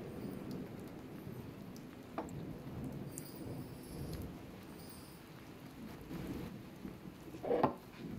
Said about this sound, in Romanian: Păi plouă afară, de-aia intră toți aici.